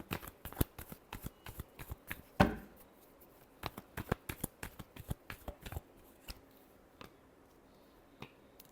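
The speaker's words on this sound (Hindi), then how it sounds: "Last shuffle." A tarot deck shuffled by hand close up: a quiet run of crisp card flicks and snaps with one louder riffle burst, the taps irregular and spaced, with no talking.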